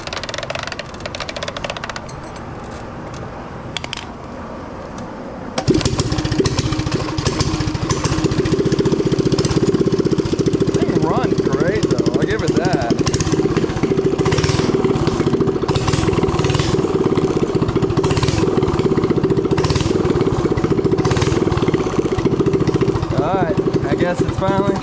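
A mini drift trike's small engine is cranked and catches, then runs steadily at a loud, buzzing idle close by, with people talking over it before and during the running.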